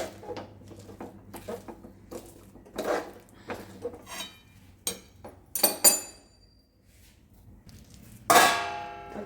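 Sesame and jaggery mixture being stirred in a metal pan with a spoon, giving sparse clinks and scrapes that build to a few sharp metallic clangs and a final loud ringing clatter, with no one speaking.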